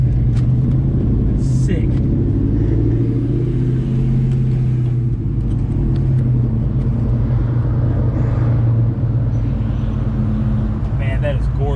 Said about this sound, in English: Freaking GT500 right there